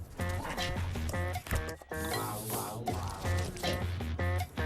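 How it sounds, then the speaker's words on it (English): A rescue dog barks in a rapid run of loud, close yaps and yips, with music and other sounds layered underneath. "You got a dog? Yeah, he's a rescue dog."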